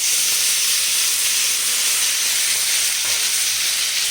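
Tomato pieces hit hot oil seasoned with asafoetida in a pan and sizzle, a loud, steady, broadband hiss that holds evenly for the whole stretch with no talking over it.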